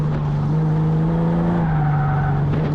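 A Ford Mustang on wide tires laps the Charlotte track at an SCCA Track Night in America session, its engine holding a loud, steady, droning roar heard from on board with a slight shift in pitch partway through.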